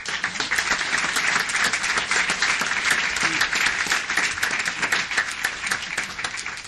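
Sustained applause from an audience at a city council meeting, many hands clapping steadily and loudly for the whole stretch with no voices over it.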